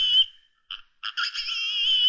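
An angry pig sound effect from a simple money game programmed in VB6: a short high squeal, a brief chirp, then a longer wavering squeal, all clean and alone.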